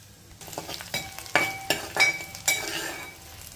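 Asafoetida and turmeric spluttering in hot oil for a tempering, a soft sizzle punctuated by several sharp clinks of a metal spoon against the pan, close and fairly quiet.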